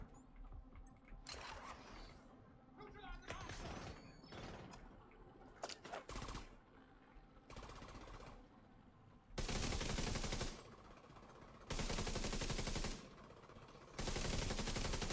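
Heavy sustained LMG fire in The Division 2 crashes out in loud, dense bursts, with clusters of rapid shots early on and then long, thick volleys broken by short pauses.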